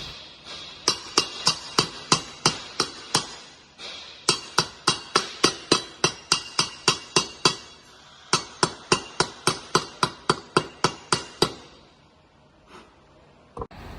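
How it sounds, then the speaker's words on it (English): Rapid, sharp metallic taps of a chipping hammer striking a weld to clear slag, in quick bursts of steady blows with brief pauses between runs. "I use a chipping hammer and wire brush to clean the slag from the weld"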